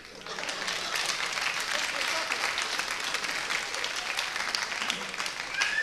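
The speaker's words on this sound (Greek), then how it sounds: "Αγαπητοί φίλοι, χειροκροτάτε τώρα." Audience applause at a live comedy show, a dense sustained clapping that swells in quickly and holds loud and steady to the end.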